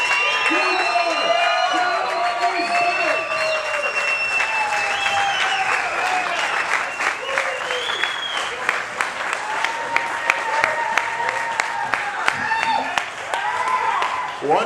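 Loud, sustained applause from a large crowd at a Triumph press conference at Rocklahoma, with scattered cheers and whoops, continuing steadily throughout.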